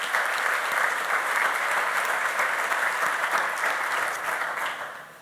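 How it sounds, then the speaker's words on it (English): A large audience at the NetHope Global Summit 2019 applauds a newly named fellow with steady, dense clapping that holds for several seconds before tapering at the end. "So a big round of applause for Corey for being named as the new fellow."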